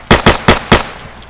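Four quick, sharp gunshots crack in a fast burst in the video game Insurgency (2014), loud and close, followed by a brief decaying echo.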